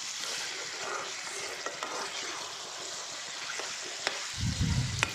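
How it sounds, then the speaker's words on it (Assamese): Boiled elephant foot yam fries with local chicken and masala, a steady close sizzle with occasional scraping stirs and a low bubbling thump near the end. "কচুখিনি দিয়াৰ পাছত আমি অলপ ভাজি ল'ম ভালকৈ"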